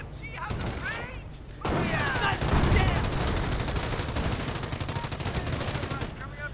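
Battle sounds from a World War II real-time strategy game: dense machine-gun rattle and rifle shots crackle continuously, with heavy impact bursts and a constant din of combat noise throughout.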